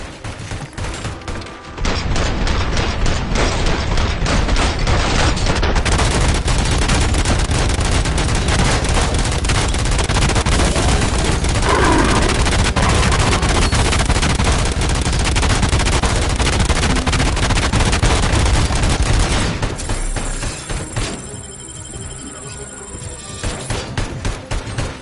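Sustained rifle gunfire from the RoboCop: Rogue City video game, a dense, loud continuous barrage of rapid shots lasting about twenty seconds, then tapering into scattered, lighter shots and game effects.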